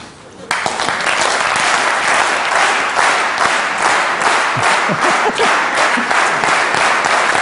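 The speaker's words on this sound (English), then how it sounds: "Can you get it together to clap in sync?" A lecture audience bursts into loud, dense clapping that starts abruptly, with the scattered claps gradually pulling toward a shared rhythmic pulse.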